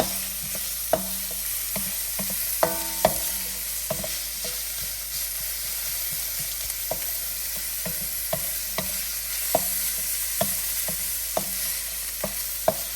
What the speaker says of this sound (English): our garlic, and give that a stir